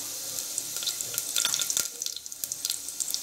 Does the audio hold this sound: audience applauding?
no